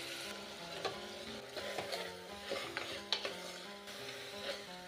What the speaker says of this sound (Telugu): కారం పసుపు వేసుకున్నాక ఒక 1 to 2 మినిట్స్ వేగనిస్తా